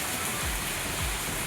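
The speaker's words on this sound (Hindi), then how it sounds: "वाह, भयंकर बारिश हो रही है।" Heavy rain pours at night in a dense, steady hiss, with no voices.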